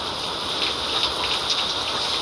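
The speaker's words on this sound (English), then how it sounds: "And the rain is kind of relaxing." Steady rain falls in a horror video game, a dense even hiss of drops with no other sounds and no talk.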